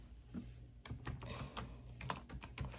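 Keys clatter on a computer keyboard while Java code for a for loop is typed, a close, irregular run of crisp clicks with short pauses between bursts.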